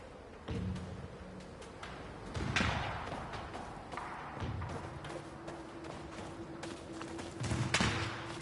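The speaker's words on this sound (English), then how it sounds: "I hear gunshots." Several sharp gunshot bursts crack out at irregular intervals over a steady background hum in Banishers: Ghosts of New Eden on PS5, with thumps and impacts scattered throughout.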